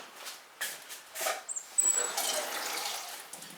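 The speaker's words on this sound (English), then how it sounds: "I think I'm just going to add a very small amount of water." A small amount of water pours onto clay slip on a spinning potter's wheel, giving brief splashy gurgles and a trickling wash that settles into a soft steady hiss, close and moderately loud, with no talking.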